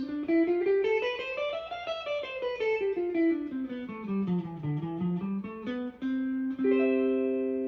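An electric guitar plays a D-position CAGED scale, single notes climbing and then descending in a smooth run, ending on sustained held notes.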